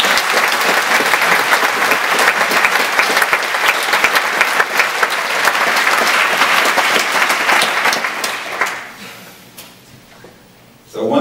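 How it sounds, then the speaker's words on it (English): A live presentation audience gives a long, dense round of applause that stays loud and steady for about eight seconds, then fades away into quiet, with a voice returning right at the end. "So a big round of applause for all you guys."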